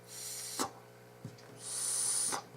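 Air drawn through the side airflow holes of a Trident clone RBA vape atomizer, heard as a soft near rasp that swells into a steady hiss for under a second, framed by brief clicks.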